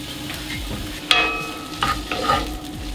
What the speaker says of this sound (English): I'm going to add this onion